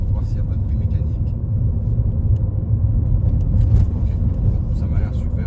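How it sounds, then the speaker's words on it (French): A Ford B-MAX Titanium 1.6 105 hp petrol car accelerating along a road, heard from inside as a steady low engine and road rumble with no talking. "Je vais accélérer un peu sur cette voie, pour voir s'il n'y a pas de bruit mécanique."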